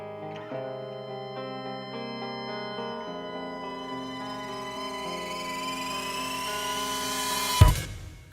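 A synthesized riser climbs steadily in pitch over sustained electronic tones, building brightness until a sharp crash-like peak near the end.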